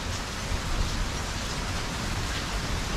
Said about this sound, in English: Pretty solid rain coming in